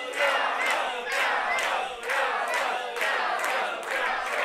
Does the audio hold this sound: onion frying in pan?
no